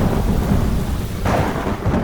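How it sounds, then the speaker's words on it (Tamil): Heavy, steady rain roars without a break under deep rumbling thunder. A louder swell about halfway through adds a sense of storm. It serves as a sound effect in a Tamil horror folklore story. "நினைச்ச மாதிரியே கொஞ்ச நாள்ல பயங்கரமான மழை பெய்ய ஆரம்பிச்சுது."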